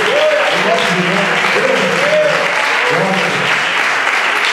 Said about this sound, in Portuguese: A igreja pode dar uma salva de palmas para Jesus